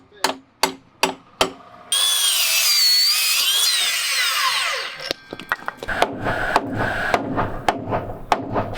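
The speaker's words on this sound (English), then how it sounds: "There's a piece of 4x2 on the saw." A power saw cuts through a length of 4x2 timber at a sleepout build site, a loud sustained whine of about three seconds following several sharp knocks, then clattering handling noises as the cut piece is moved.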